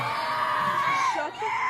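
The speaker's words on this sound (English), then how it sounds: "What the fuck are you screaming at?" A person screams in a sustained, loud, wavering cry that dips briefly and resumes, close and clear with little else around it.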